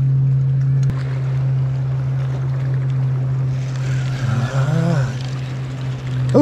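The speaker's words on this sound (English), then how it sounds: "Big boat just come by." A big boat passing on Lake Guntersville: a steady low engine drone with a deeper rumble swelling briefly toward the end, heard from moderately close on the water.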